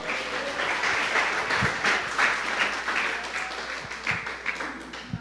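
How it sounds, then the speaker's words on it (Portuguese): Congregation applauding during a church service, a dense, steady wash of clapping that stays loud throughout with a few sharper individual claps standing out. "Uma salva de palmas ao Senhor."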